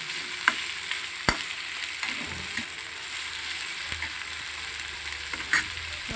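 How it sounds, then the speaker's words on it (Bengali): Sliced onion, capsicum and tomato sizzle in a hot pan for restaurant-style chilli chicken, a steady close frying hiss broken by sharp clacks of a spatula stirring and scraping. "এবার পেঁয়াজ, ক্যাপসিকাম আর টমেটোটা একটু নরম নরম করে ভেজে নিতে হবে"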